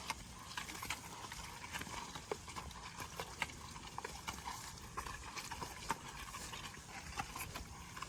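A carabao water buffalo walks at harvest time, its hooves clopping in an irregular rhythm of soft knocks close by, with no talk over it.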